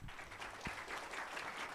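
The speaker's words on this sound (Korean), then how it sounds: "좀 박수 좀 부탁드릴게요." An audience at a developer conference session applauding, a continuous dense patter of many hands clapping at moderate distance, fairly quiet and without speech.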